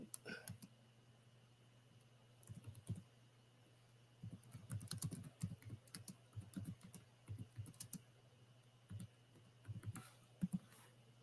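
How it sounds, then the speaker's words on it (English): Keys tapped on a computer keyboard in irregular bursts of quick clicks with short pauses, fairly close but quiet against a steady low hum of room tone. "Let me type this in."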